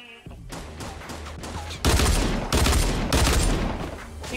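Bursts of gunfire ring out in a Fortnite Battle Royale match, several rapid volleys growing louder and denser toward the end, with no talk over them.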